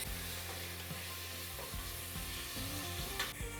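Curry leaves sizzle and spit in hot oil in a pan for bagara rice, a steady frying hiss with occasional stirring scrapes, fairly quiet over a low background hum.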